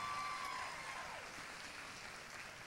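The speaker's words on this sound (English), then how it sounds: "let's give him a nice round of applause" Audience applause for a young stockman at the Rodeo Austin junior market steer show in an arena, a faint, diffuse spread of clapping that holds steady and softens slightly, with a brief tonal ring early on.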